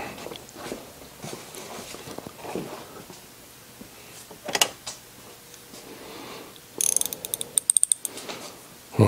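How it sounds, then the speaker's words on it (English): A socket wrench ratchets in short, quiet clicking bursts during work on a ring gear setup, with a quicker run of sharp clicks near the end. "I need a socket wrench to get at that."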